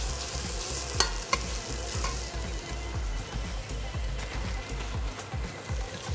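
Coarsely chopped onions stirred in a hot pan, a steady sizzle with repeated scraping strokes of a utensil, close and continuous, no voices.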